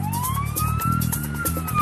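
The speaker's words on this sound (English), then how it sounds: "I think the ambulance can get by." An ambulance siren wails loud and close in a steady rising-and-falling sweep while a vehicle engine drones underneath, with no talk.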